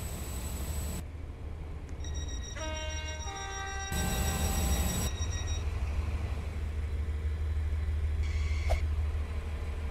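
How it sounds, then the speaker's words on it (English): A train pulls into a station in the Roblox game Stepford County Railway, with a steady low rumble and a chime-like announcement tone over the hum, then a louder burst of rushing noise and a later short clank. "The train now approaching platform one terminates here."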